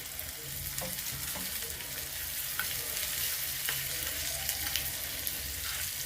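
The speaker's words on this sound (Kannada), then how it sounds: "ಸ್ವಲ್ಪ ಈರುಳ್ಳಿ ಎಲ್ಲ ಚೆನ್ನಾಗಿ ಫ್ರೈ ಆಗಲಿ" Onions with a little asafoetida fry in a pan, giving a steady, quiet sizzle with occasional faint clicks and stirring scrapes and no talking.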